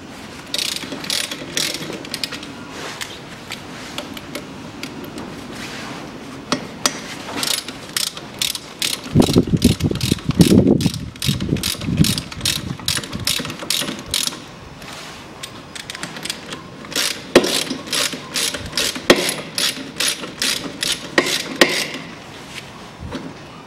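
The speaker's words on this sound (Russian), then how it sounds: "откручу два болта крепления вот этой скобы к суппорту" A ratchet wrench with a 19 mm socket loosens the brake caliper bracket bolts on a 2001 Daewoo Nexia 1.5, rapid clicking bursts of the pawl repeating close up, with pauses and some metallic handling in between.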